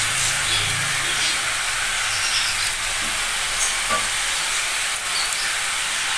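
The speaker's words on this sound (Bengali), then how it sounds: "এবার একটু আমি ভেজে নেব" Green chilli paste and tomato paste frying in a pan give a steady, close sizzle and hiss throughout, with faint stirring and no talk.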